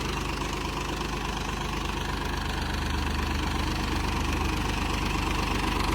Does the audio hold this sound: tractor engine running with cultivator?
yes